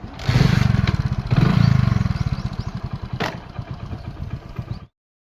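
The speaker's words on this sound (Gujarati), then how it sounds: "હવે ચાલુ કરીશ હું બાઇક" A motorcycle engine sputters into life on a farm and chugs with a fast, pulsing beat, revving up and down briefly before cutting out abruptly into silence.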